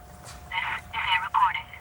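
A telephone line plays a disconnected-number tone, three short bursts in a steady sequence over a low hum, heard from the receiver in a quiet room.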